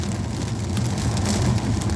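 Steady rain during a violent thunderstorm in Normandy patters and hisses continuously on surfaces, a dense even wash with a low rumbling undertone and no distinct thunderclap.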